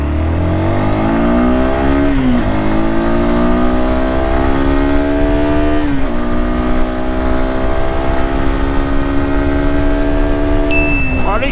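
A Galaxy NH250 motorcycle accelerates hard from a standstill, its engine revving up through several gear changes with clear drops in pitch at each shift, loud and close throughout.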